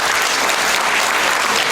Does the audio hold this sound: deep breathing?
no